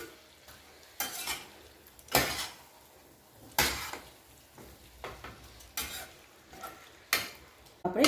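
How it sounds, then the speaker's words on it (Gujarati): Boiled potatoes being stirred into spiced masala in a pan for Gujarati dry potato bhaji, with repeated scraping and stirring strokes roughly every second over a low background sizzle, close and fairly loud. "બરાબર મસાલાની અંદર બટાકાને મિક્સ કરી લઈશું"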